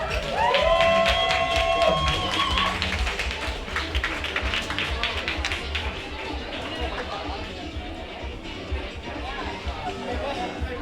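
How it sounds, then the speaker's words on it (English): A pub crowd at a poetry slam in Calgary's Dickens Pub breaks into a round of clapping and scattered cheers, a dense patter that fades out over several seconds while voices talk nearby. "Round of applause for you guys for showing up."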